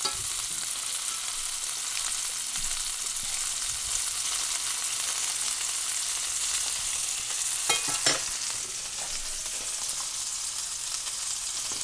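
Meatballs frying steadily in a pan for spaghetti and meatballs, an even, soft sizzle with a few brief crackles and a small stir near the middle, no talking.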